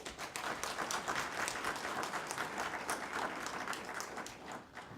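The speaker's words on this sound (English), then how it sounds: "please give yourselves a big round of applause" An audience at a leadership academy graduation ceremony gives a big round of applause, dense and sustained clapping filling the room, fairly faint and distant, easing off near the end.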